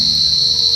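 A cricket trills loudly at close range, a steady high-pitched buzzing chirp held through the whole brief moment with no other sound over it.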